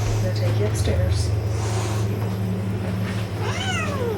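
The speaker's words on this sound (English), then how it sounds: "Get the cat out of there." A cat meows over a steady low hum inside a house, with a few drawn-out calls and a person's voice nearby.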